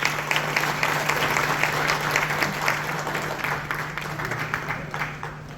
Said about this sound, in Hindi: तालियां बजती रहे कि आलोक शर्मा जी के लिए